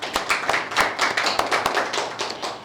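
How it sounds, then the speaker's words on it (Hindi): An audience claps at a ceremony honouring a rank holder in a Hindi lecturer exam, with brisk, dense applause from nearby hands that holds steady for a few seconds with no talk. "इसके लिए जोरदार तालियां"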